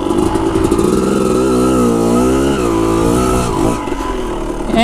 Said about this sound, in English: when your bike's upside down like that and you start it, it takes forever to start